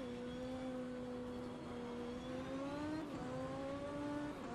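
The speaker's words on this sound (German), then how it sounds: "Hier am nächsten Lamborghini vorbei." BMW M4 Class 1 race car overtaking a Lamborghini at Hockenheim in the rFactor 2 racing game, engine holding a steady high drone that rises in pitch as it pulls past, loud and continuous.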